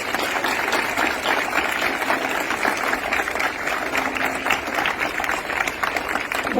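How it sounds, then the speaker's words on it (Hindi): Students in an audience give sustained, even clapping to welcome a guest speaker at a talk, a steady crowd of hands with no voices over it. "खूब तालियों से इनका स्वागत करें बच्चे।"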